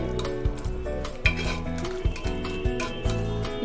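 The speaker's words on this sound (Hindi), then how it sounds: "इस तरह से मैं स्मैश कर ले रही हूँ इसे।" Cooked chickpeas with onion, tomato and green chilli being stirred and mashed in a pot, a close run of thick squelchy scrapes and metal knocks with a steady sizzle underneath.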